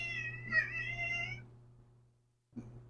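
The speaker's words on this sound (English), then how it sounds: "It's my cat, Mr. Kitty." A cat meows repeatedly at close range, a drawn-out plaintive call in the first second and a half, then a short pause before another brief meow begins.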